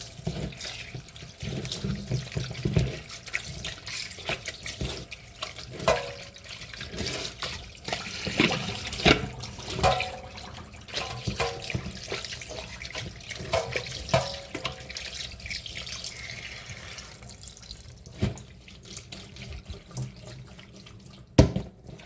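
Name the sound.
tap water running while washing beef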